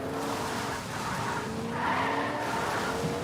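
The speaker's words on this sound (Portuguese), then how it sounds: "Vamos de carro." Car in a battle royale video game driving with a steady engine drone and a drawn-out tire skid, loud and continuous with no talking.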